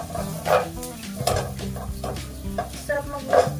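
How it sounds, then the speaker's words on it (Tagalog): Chopped onion hits hot oil in a home kitchen pan and is stirred, giving a steady sizzle broken by repeated loud scrapes and clanks of the spoon against the pan. "Ihulog na natin ng sibuyas."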